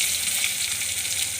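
Onions sizzle in hot oil in a pan, a steady close hiss with a crackling texture that continues without a break and with no talk.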